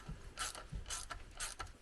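A ratchet tightening a hose clamp on a car's intercooler hose, heard as three short bursts of rapid clicking separated by brief pauses, close and fairly quiet, with no talk.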